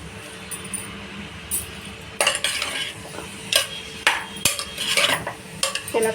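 Green chillies stirred in hot oil in a pan while cooking sambar, with scraping spoon strokes and clinks of utensil against metal in irregular bursts over a low background hiss; no talk.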